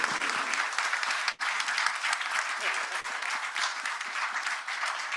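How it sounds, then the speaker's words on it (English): Sustained applause from a conference audience for a panel of speakers at a climate law event, dense steady clapping over about five seconds with a brief dip partway, no talk over it. "Can we please give a big round of applause to all our panelists."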